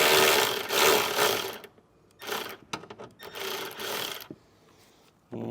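Ratcheting and scraping bursts from a 10mm socket working a factory ground bolt loose on a 2022 Subaru, several rough grinding spells separated by short pauses, close and fairly loud.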